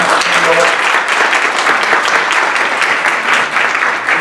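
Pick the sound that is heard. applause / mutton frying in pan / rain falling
applause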